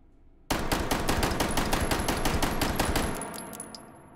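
Rapid automatic gunfire of flechette rounds from a gun in the VR game Hot Dogs, Horseshoes & Hand Grenades, a dense, loud burst of closely spaced shots lasting about two and a half seconds, then trailing off.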